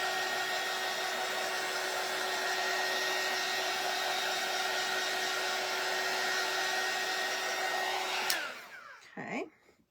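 A hair dryer blows on a vintage frame kit print with a steady loud whine and rush of air, then switches off near the end, followed by a few faint handling noises.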